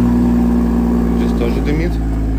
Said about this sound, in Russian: Я давно не слышал стокового выхлопа.